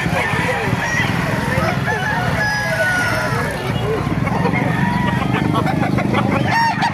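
Dense, loud farmyard din of many roosters and fowl calling over one another, with crowing among the steady clamor throughout, at a chicken farm in Calumpit, Bulacan.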